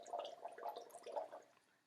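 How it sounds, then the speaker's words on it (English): A child blowing bubbles in pool water during a parent-and-child swim lesson, producing faint, soft gurgling bursts in quick succession that fade out. "blow some bubbles"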